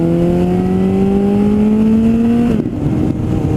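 A 2008 Suzuki Bandit 1250S fitted with a Delcovic 200mm exhaust revs up nearby, its loud engine pitch climbing steadily for over two seconds before dropping off sharply and settling into a rumble.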